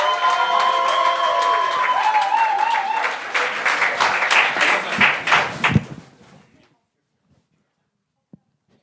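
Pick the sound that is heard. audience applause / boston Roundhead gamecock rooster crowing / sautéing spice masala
audience applause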